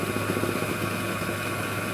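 Electric stand mixer running on low speed while flour is sifted in for pound cake batter, a steady mechanical whir that continues evenly and moderately loud throughout.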